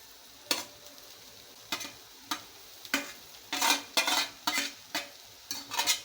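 Grated coconut and browned onion for a mutton curry are stirred in a frying pan. A spatula scrapes in separate strokes over a faint sizzle, starting sparse and then coming in quicker clusters.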